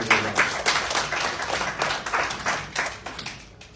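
An audience at a vision workshop launch in Jamaica claps for the vendors, a lively burst of many hands close by that sways in strength and then thins toward the close.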